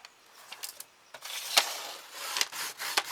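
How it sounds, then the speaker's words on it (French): Paper strip for a flipbook being creased and folded by hand, giving soft rubbing and rustling with a few brief sharper crackles spread across the moment, close and fairly quiet, no talking. "Et je vais faire un premier pli à 1 cm."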